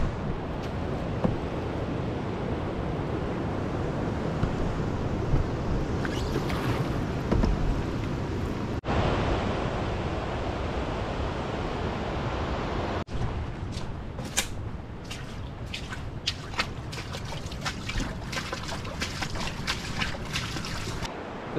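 Rushing river rapids in high water right beside a waterfall on a Quetico canoe route, a continuous loud roar of churning water with wind buffeting the microphone.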